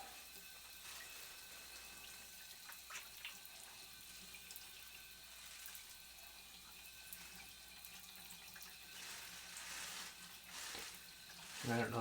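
Running water steadily rinses a resilvering solution off a telescope's primary mirror, a continuous close splashing and trickling with a few louder splashes near the end, and no talking over it.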